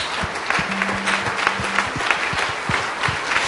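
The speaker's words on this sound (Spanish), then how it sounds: "Dale un aplauso fuerte a él" A church audience at a pastor's sermon breaks into applause, loose overlapping claps with sharper individual hits standing out. The clapping continues at moderate level throughout and carries a faint vocal tone.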